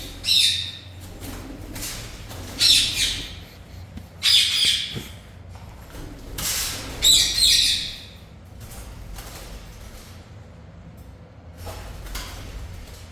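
Pet birds being given germinated seeds and egg-protein feed chirp and squawk in several loud, bright bursts close by, separated by quieter gaps, with no speech.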